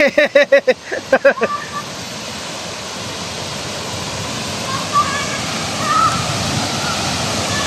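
Steady rushing roar of a waterfall at Lake Sebu in South Cotabato, continuous broadband wash throughout, with loud excited shouting voices over it at the start and a few faint calls later.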